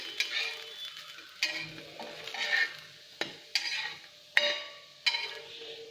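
Plantain cutlets frying in a pan after being flipped, a steady close sizzle broken by several sharp spatula scrapes and clinks against the pan, no voices.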